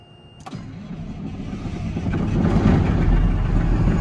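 A John Deere tractor engine cranks and catches, then settles into a deep, growing rumble that gets louder and steadier, close by.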